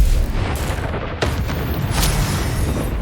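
Depulso force spell cast in the video game Hogwarts Legacy, a loud booming blast with rumbling low end that fills the short clip without pause.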